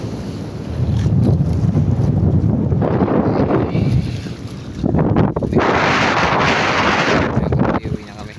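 Wind blows hard across open sea around a fishing boat, steady heavy buffeting on the microphone with a hiss and surge that swells near the middle and toward the end, plus faint voices underneath.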